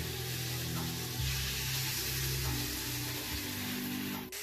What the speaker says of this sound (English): we're gonna put the meat to brown it in the pan